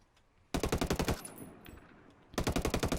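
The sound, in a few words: FN FAL rifle full-auto gunfire in video game Ghost Recon Wildlands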